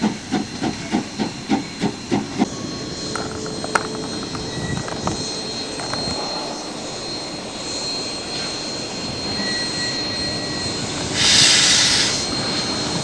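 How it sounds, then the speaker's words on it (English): Steam locomotive No. 9 moving at a rhubarb festival, with rhythmic chuffing at first, then a sustained hiss of escaping steam and a louder burst of steam near the end. "engine number 9 is heading for the barn, taking the train over to the MCR shop"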